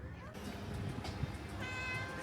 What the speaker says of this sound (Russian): Мяу, кисули.